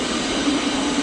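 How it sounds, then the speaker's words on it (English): An IC train that has arrived from Berlin, standing at Köln Hbf, gives off a steady close-up rumble with a faint tonal hum, heard alone without voices. "here's the IC that just arrived from Berlin"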